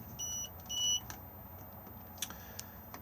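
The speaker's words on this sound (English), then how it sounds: "So currently it will flash and we will get a beeping noise because we have not got the engine running." A Benimar Benivan 120 campervan beeps with its engine off: two short electronic beeps close together, quiet over a faint background hum.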